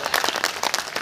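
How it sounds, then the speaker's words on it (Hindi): A crowd at a public rally gives dense applause, many hands clapping in a continuous close wash of sharp overlapping claps. "जरा दोनों हाथ आसमान में उठाकर तालियों की गड़गड़ाहट चाहता हूं।"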